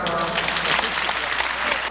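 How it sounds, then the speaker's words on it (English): Audience applause at the 1983 German Shepherd Dog Club of America national specialty, during judging of select bitches: dense, steady clapping from a sizable crowd fills the whole moment with no pause. "Let's give her a round of applause."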